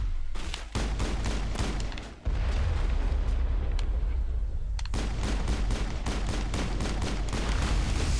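Crossfire in Mass Effect: rapid, sustained gunfire, with dense bursts of shots and a few heavier booms over a continuous loud battle roar.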